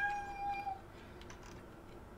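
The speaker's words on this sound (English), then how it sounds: "Hello, cat. Sorry, my cat's just come in." A pet cat gives a single short, tonal meow close by, followed by quiet room ambience with no voices.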